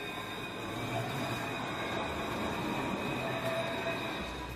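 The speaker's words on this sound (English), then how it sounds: "Luas, Dublin's modern urban tram system, provides a link from the city's outer suburbs into its centre." Dublin's Luas urban tram running between the outer suburbs and the city centre gives a steady, continuous rumble of rail noise with a faint high whine, moderately loud and with no voices.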